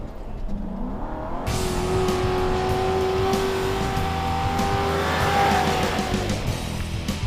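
Chevy police car tearing off-road at speed, its engine roaring hard and rising in pitch as it accelerates through dirt, loud and sustained with tire scrabble and a sweeping pass.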